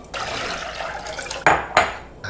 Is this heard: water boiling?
yes